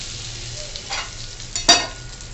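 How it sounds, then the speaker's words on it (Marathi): Hot oil tempering with mustard seeds, urad dal, curry leaves and asafoetida is poured over chutney, a soft steady sizzle with a sharp hissing burst near the end as it hits. "आता ही फोडणी आपण त्याच्यावर घालूया।"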